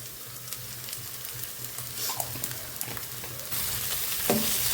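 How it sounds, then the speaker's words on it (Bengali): A spoonful of ghee sizzling in a hot pan, a steady crackle with scattered stirring clinks that swells louder near the end. "একটু ঘি, 1 চামচ ঘি দিয়ে দিচ্ছি।"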